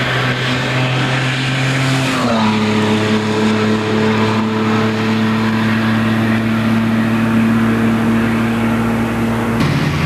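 A race car carries high speed down a very long straightaway at around 180 to 190 mph, its engine a loud, steady drone that shifts pitch once early and again near the end, with no talk over it.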